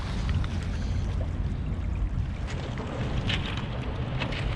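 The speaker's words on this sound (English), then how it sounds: "there's a lot of ambient noises around you, some boats and stuff" Boats on the River Thames in London heard from the shoreline, a steady low engine rumble mixed with lapping water and wind buffeting the microphone, moderately distant and continuous.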